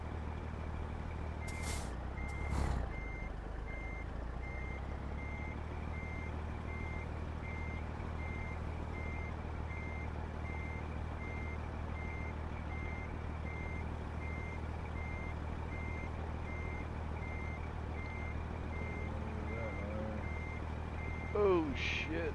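In a truck driving video game, a truck's reversing beeper gives a steady string of even beeps under a low idling engine, with a couple of air brake hisses near the start and a brief squeal at the end.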